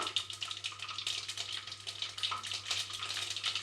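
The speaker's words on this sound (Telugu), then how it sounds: "కొద్దిగా కరివేపాకు వేసుకొని ఫ్రై చేసుకోవాలి" Fenugreek, mustard seeds, cumin, garlic and curry leaves fry in hot oil with a steady, crackling sizzle that pulses with stirring, close and constant throughout, with no talk.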